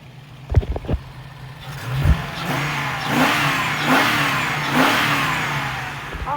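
A 1998 TVR Chimaera 4.5 V8 with a T5 five-speed gearbox starts with a few clunks, then revs up in several rising pulses and settles to a steady, throaty idle, close and loud with no talk.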